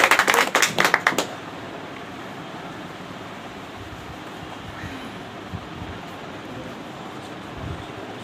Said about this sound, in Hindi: आपका तालियों से आप स्वागत करिए